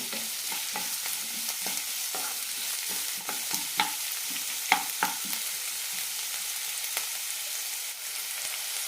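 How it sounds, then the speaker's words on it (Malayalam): Sliced onions with curry leaves sizzle steadily in hot oil in a pan for onion kurma curry, with a spoon scraping and tapping through the constant close frying hiss. "നന്നായി വഴറ്റാം കണ്ണടി സവാള വഴറ്റിയെടുക്കണം"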